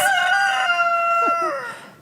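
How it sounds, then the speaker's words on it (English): A rooster crows loudly close by, one long drawn-out call that fades at the end, with a faint second crow overlapping. "These roosters are having a crowing contest."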